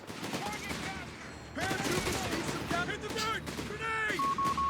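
Rapid bursts of rifle and machine-gun fire from a Company of Heroes 3 battle, crackling in the background beneath almost constant talk from a caster, with a few louder volleys near the end.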